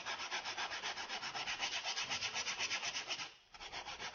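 A hand file rasps back and forth over the sharp edges of small pieces for a handmade studio fireplace, rapid even strokes in a steady rhythm, close and moderately quiet, with one brief pause before the filing resumes.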